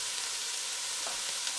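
Onion and ground beef fry with a steady, broad sizzle while being stirred quickly, with a faint scrape of a utensil near the end and no voices.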